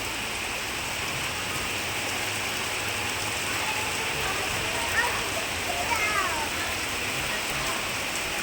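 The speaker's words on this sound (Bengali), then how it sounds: "এই দেখো টিনের ওখান থেকে দেখতে পাচ্ছ একদম মুষলধারিতে বৃষ্টি হচ্ছে।" Heavy rain pours onto a tin roof in a dense, steady hiss that fills the whole stretch, with a few faint higher chirps over the constant downpour.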